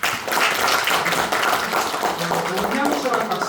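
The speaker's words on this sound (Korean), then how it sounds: "자, 박수 한번 주세요." Seminar audience applauding at an educational lecture, a steady dense wash of clapping held at an even level for several seconds, with a voice briefly audible underneath.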